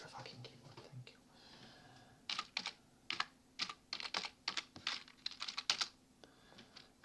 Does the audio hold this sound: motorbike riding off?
no